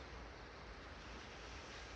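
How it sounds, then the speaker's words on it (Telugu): Arabian Sea waves near Gangeshwar Mahadev temple in Diu make a faint, steady wash of surf at sunrise, continuous and unbroken, with no voices. "అరేబియన్ సముద్రం."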